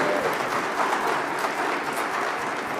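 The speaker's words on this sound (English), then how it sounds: "Please join me in giving them a great round of applause." Steady, dense applause fills a Texas bar association recognition luncheon, a crowd clapping continuously and evenly with no break for the whole moment.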